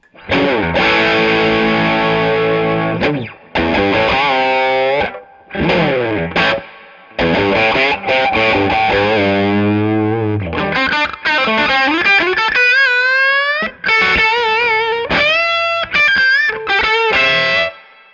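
An electric guitar is played through a Two-Rock Bloomfield Drive amp on its distorted channel, loud and close, with crunchy sustained chords and bent single notes broken by short pauses.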